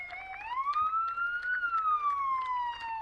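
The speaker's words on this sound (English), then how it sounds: "we're fortunate enough to get the siren on every vehicle that comes by" Police car siren wailing as the vehicle passes during a hometown parade, one smooth rising and falling sweep, fairly faint and somewhat distant.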